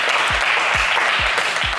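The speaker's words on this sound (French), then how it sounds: "Allez, on vous applaudit bien fort." A studio audience at a French TV game show claps loudly and continuously, a dense close wash of applause with a few rhythmic thumps through it.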